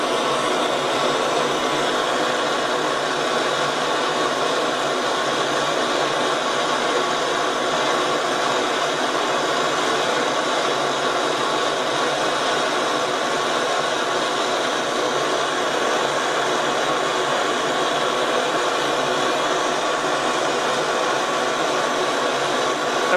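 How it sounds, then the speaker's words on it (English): A gas torch flame roars steadily and loudly while heating precious metal for melting, a continuous broadband hiss with no pauses. "You can see this torch is not really good for melt-ups."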